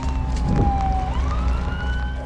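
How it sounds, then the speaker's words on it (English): Emergency vehicle sirens approaching at Burning Man, a loud wailing tone sliding down then rising again, continuous and close over a dense rumbling background. "Sirens coming this way, quite ominous."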